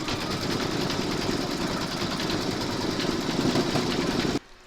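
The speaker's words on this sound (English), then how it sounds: "then you're going to stitch round number 6" An embroidery sewing machine stitches a door tag design, its rapid, steady mechanical whirring running loud and unbroken before stopping abruptly near the end.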